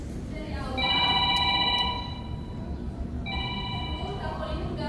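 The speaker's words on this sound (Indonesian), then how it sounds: "Telepon ini mengganggu." A telephone rings in two electronic bursts separated by a pause, fairly close and clear over a low background murmur, in a staged drama scene.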